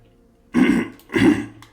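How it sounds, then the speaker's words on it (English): Two deep, rough throat-clearing rasps come in quick succession, close and fairly loud, with silence before and between them. "I'm clearing my throat too."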